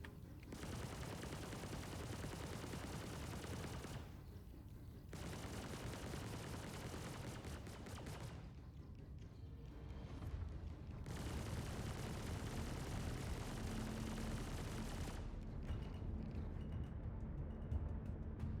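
Sustained gunfire in a space video game, dense bursts of shots rolling on almost without pause across the whole stretch, loud and continuous with only brief dips.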